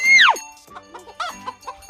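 A chicken gives a loud, rising-then-falling squawk followed by several softer clucks, close by on a Thai farm with no speech.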